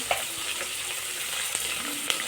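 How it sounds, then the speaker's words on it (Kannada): Onions, green chillies and curry leaves sizzle in a hot pan with a dense, close crackle, broken by a few sharp clicks of stirring. "ಈರುಳ್ಳಿನ ಸ್ವಲ್ಪ ಗೋಲ್ಡನ್ ಕಲರ್ ಬರೋ ತನಕ ಫ್ರೈ ಮಾಡ್ಕೊಳ್ಳೋಣ"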